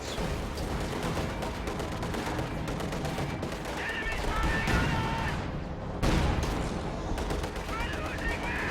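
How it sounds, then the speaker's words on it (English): A light artillery barrage falls on an anti-tank gun in a strategy video game, a dense, continuous rumble of blasts and gunfire with loud crashes, under a voice talking. "Light artillery barrage falling on the AT gun right there."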